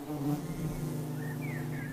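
Honeybees hum at the hive in a steady, close buzzing drone, with a few individual bees whining past at higher pitch toward the end.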